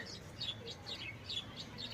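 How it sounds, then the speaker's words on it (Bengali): Small birds chirp after a morning rain, quick high tweets repeating in a steady pattern, faint and somewhat distant over a quiet, soft background. "পাখির কিচির মিচির"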